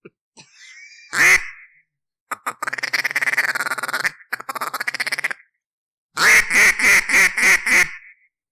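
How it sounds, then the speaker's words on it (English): A hand-blown duck call quacking at close range: a single sharp quack, then a long raspy chattering run, a broken burst, and finally a rhythmic series of six loud quacks, with short silences between the phrases. "throw me one of them duck calls."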